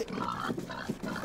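A pig grunts in short, rough bursts close by during unloading, with no talk over it.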